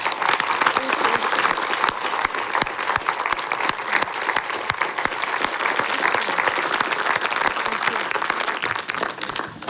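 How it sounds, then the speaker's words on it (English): A large audience at a museum awards panel in Tartu, Estonia breaks into sustained, dense applause that fills the room steadily from start to finish, loud and continuous with no speech over it. "Let's make a big applause to our"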